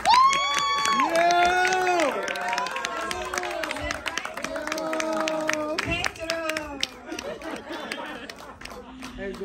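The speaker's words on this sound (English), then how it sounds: "Let's keep the applause going for the very funny Pedro!" Comedy club audience claps and cheers for a stand-up comic, with whoops and excited voices over the clapping, fading toward the end.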